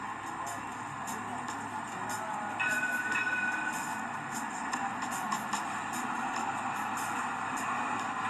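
A passing train rolling along rails, a steady rumbling clatter with a brief high squeal partway through, heard under a voice talking.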